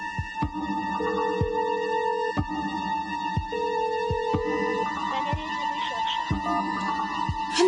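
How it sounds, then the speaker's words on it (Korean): A mobile phone rings on and on without being answered, its steady tone repeating in regular bursts against a low background hum, with no voices. "핸드폰도 안 받아?"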